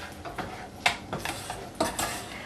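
A spoon scrapes and clinks against a pan as turmeric is stirred into an aubergine and soy mince curry, with soft rhythmic strokes and a few sharper metallic taps, quiet and close with no talking.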